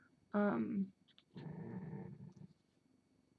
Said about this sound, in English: That's my dog, one of my dogs groaning again.